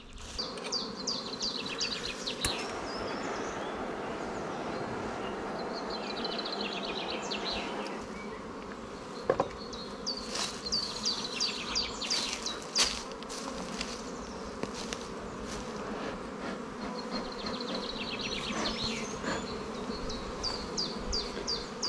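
Honeybees buzz around spring beehives outdoors, a continuous soft drone with individual bees zipping past nearby, faint and steady across the whole stretch with occasional light knocks and no talking.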